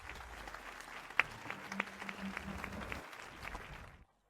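An audience gives fairly faint, steady clapping to welcome a wedding dress designer, with a couple of sharp clicks and a low hum underneath before it cuts to silence at the end.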